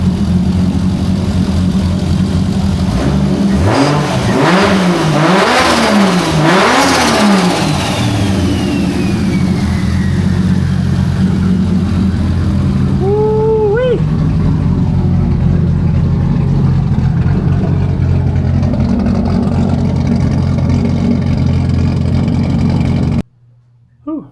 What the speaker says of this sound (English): I'll give you guys a couple revs so you can hear it.